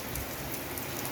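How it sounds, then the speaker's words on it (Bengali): Heavy rain pours down in a steady, dense patter, with no voices, across the whole short stretch. "ভয়ানক বৃষ্টি হচ্ছে দেখছো।"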